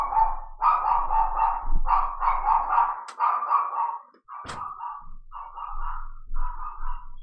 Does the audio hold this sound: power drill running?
no